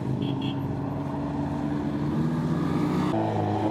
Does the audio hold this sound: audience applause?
no